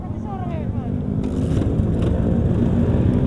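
A large group of motorcycles idles and revs at a rest area, a dense engine rumble that swells louder midway, with people talking over it.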